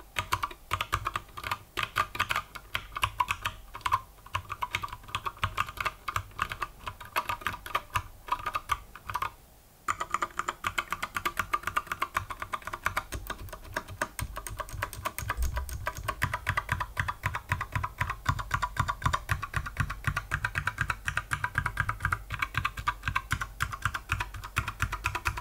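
Continuous fast typing on a System76 Launch mechanical keyboard with MX-stem switches, a dense, steady stream of close, crisp key clacks with no talking.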